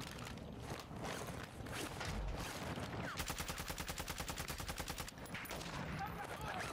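Gunfire in the video game Call of Duty DMZ crackles as a steady run of rapid shots, like a machine gun, rising out of a dense, busy game soundscape, with bursts continuing throughout.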